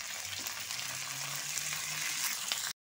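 Drumstick pieces (munakkaya) fry in hot oil in a pan for an aloo curry, making a dense, even sizzle close by that continues without a break and then cuts off abruptly.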